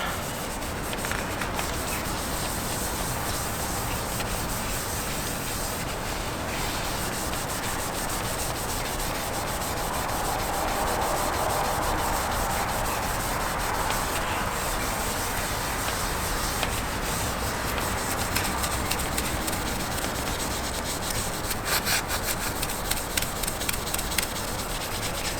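Steel wool loaded with Belgom polish scrubs oxidized motorcycle chrome in a steady, close, continuous rubbing hiss that lasts throughout, with no talking.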